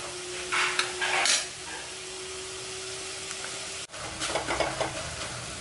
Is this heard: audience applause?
no